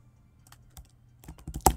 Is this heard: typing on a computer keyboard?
yes